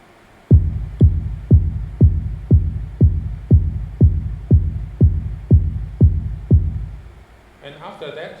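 Music filtered down to only its low end: a deep, muffled thump repeating steadily about twice a second, with a short burst of brighter sound creeping in at the very end.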